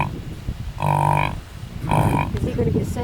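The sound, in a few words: buffalo (bison) grunting to its mother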